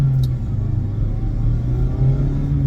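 An ND Mazda Miata on 200-treadwear autocross tires builds speed, its engine a loud, steady low rumble with road and tire drone close by, no talking.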